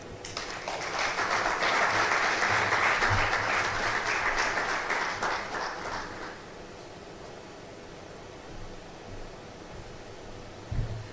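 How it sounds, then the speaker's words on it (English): Audience applause at a Ghana media summit during goodwill messages, a dense sustained clapping that swells loud for about six seconds, then fades to a quiet room murmur with a brief thump near the end. "let's give him another round of applause"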